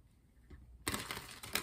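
A quick, crisp riffle of tarot cards being shuffled, sharp clicking and flapping, heard alone after a brief quiet moment.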